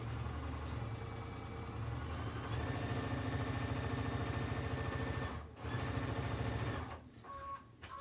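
A sewing machine back-stitches a seam, its needle buzzing in a steady close hum with a rapid pulsing rhythm, a brief pause, then a short final burst before stopping.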